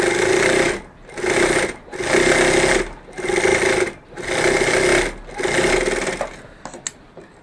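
A sewing machine stitches fabric during a beginner sewing lesson. It runs in five loud, steady bursts of rapid mechanical whirring, each lasting about a second with short pauses between, followed by softer rattles at the end.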